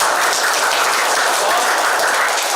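Audience applause at a group game event, a dense, steady wash of clapping that holds evenly and loud throughout the short stretch.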